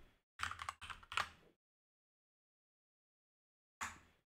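Two quick bursts of typing on a computer keyboard while coding, a flurry of clacking keys followed by a long pause, then another brief run of keystrokes.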